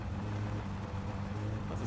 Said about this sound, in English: That's the sound of my car dying.